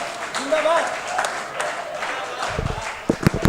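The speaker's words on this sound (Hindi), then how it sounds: "मिलकर एक बार बजाओ सारे ताली" An audience at a Haryanvi comedy poetry recital applauds in a steady wash of clapping, while someone talks over it and a few louder claps stand out near the end.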